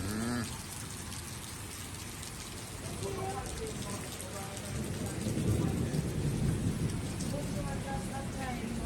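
Heavy rain pours steadily in Portland, Jamaica, a dense hiss with low thunder rumbling beneath it that swells louder midway, while people talk over the downpour.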